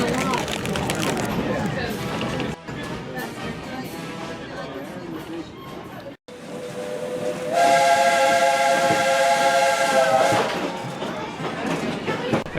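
A steam locomotive's whistle gives a long, loud, steady harmonic blast over the chuffing and rumble of a train nearby, with voices talking alongside.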